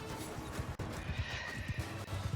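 A horse whinnies in the medieval battle game Mount & Blade II: Bannerlord, loud and close, with hooves clip-clopping steadily beneath it.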